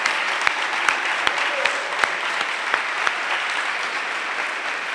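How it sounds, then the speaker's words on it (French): A crowd applauds steadily for a national delegation, a dense patter of many hands clapping at moderate distance, with a few sharper individual claps standing out. "je vous demande de les applaudir chaudement"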